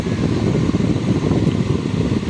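An electric fan on its lowest speed setting gives a steady, close whooshing hum of moving air, loud and continuous with no talking.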